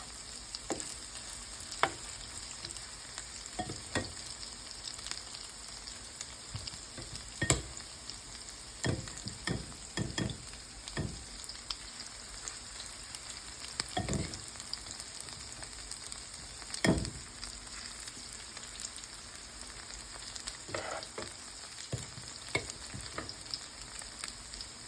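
Grated potato patties, patted thin, fry in a skillet with a steady, soft sizzle. Faint scrapes and taps of a utensil come and go over the quiet background, with no talk.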